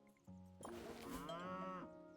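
A video game cow lets out one long, drawn-out moo with a rising then falling tone. It sounds clear and close, over a quiet game backdrop.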